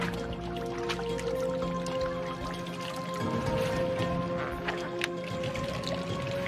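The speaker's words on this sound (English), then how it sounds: "The water is draining out of the foramina there." Water drips and trickles out of the small holes in a mastodon's left fourth rib bone as it is lifted, a steady close wet patter over a low background hum.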